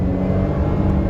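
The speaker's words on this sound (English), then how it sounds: "Dude, that Beamer low-key pulls" A BMW accelerating hard during an informal street race, a loud, steady engine drone held close for a short burst, with no voices.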